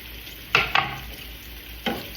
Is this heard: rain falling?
no